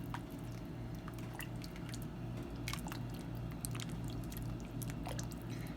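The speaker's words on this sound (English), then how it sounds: "And we're gonna give this a stir." Homemade beef vegetable soup with corn and oregano is stirred in a pot, with soft wet squishes and scattered liquid clicks over a steady low hum, heard without talk.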